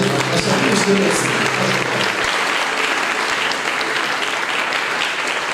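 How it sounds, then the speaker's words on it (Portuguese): A church congregation claps loudly and continuously to welcome Pastor Cláudio at an evening service, a thick sustained roar of hands with a faint voice underneath at the start. "Receber o pastor Cláudio, palmas bem forte"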